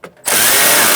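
Power drill tightening bolts on a 2007–2017 Ford Expedition power window motor and regulator assembly, a brief quiet click and then an abrupt, loud, steady motor whir close up.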